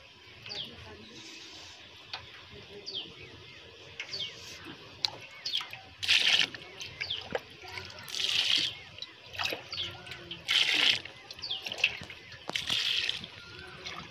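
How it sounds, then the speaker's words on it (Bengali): Water trickles and splashes into a pot in intermittent bursts while hariya rice beer is being prepared, with birds chirping faintly in the background and no talking. "হাড়িতে জল দিচ্ছি"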